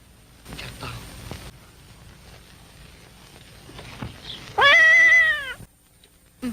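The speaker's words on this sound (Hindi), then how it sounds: "ये तो घर की बिल्ली है" A house cat gives a single loud, drawn-out meow close by in a domestic indoor setting, following a stretch of quieter background and faint murmuring.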